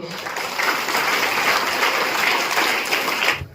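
An audience at a speech event for a library in Induri claps together, a dense, steady wash of applause that holds for a few seconds before cutting off abruptly.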